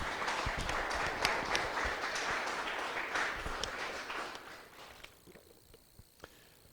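Congregation applauding for the Lord during a church sermon, a dense patter of hand claps that holds steady for several seconds and then thins out and fades to scattered claps.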